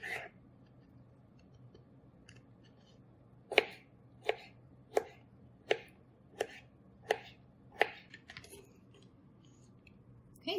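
A knife chops pickles on a cutting board in a home kitchen, about eight evenly spaced crisp cuts following a short pause, close and clear against a quiet background.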